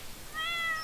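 A cat meows once in the farming game Stardew Valley Expanded, a short, clear, rising cry that appears partway through and sits alone over a quiet game backdrop.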